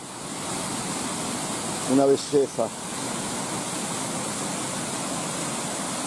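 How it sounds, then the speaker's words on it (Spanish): Water falls and cascades down a stream near Ayún, making a steady full rush throughout, while a person briefly speaks a few words in Spanish over it. "Miren cómo cae el agua."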